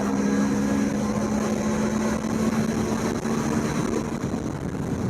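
A 2025 Hero Xtreme 160R motorcycle engine accelerates in third gear, a steady close drone with a rising tone and constant wind rush throughout.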